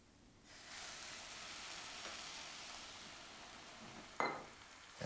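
Risotto with chicken stock in a pot gives a steady soft sizzling hiss as it is stirred, with a brief spoon scrape against the pot near the end; quiet and close.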